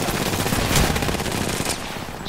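Rapid gunfire from a shooter video game, a dense burst of automatic shots running loud and steady across the whole moment, peaking briefly near the start and easing slightly toward the end.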